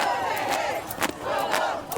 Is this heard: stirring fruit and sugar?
no